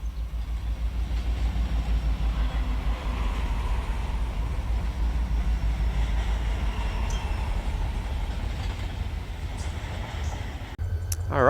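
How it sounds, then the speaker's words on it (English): A freight train in the Run8 Train Simulator game moves along a branch line, giving a steady low rumble with a faint mechanical hum throughout and a brief clank at the very end. "we're just gonna pull the train ahead a little bit"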